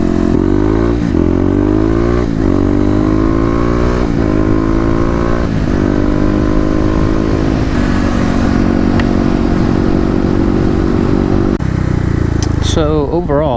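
A Kawasaki KLX250 dual-sport motorcycle rides through city traffic, its single-cylinder engine droning loud and close, with the pitch climbing and dropping through repeated gear shifts.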